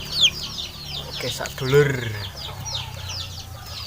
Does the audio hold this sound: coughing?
no